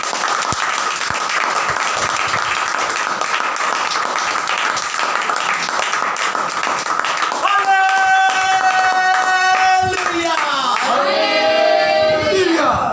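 A church audience breaks into loud, sustained applause, dense and steady throughout, with an organ or keyboard chord swelling in near the end.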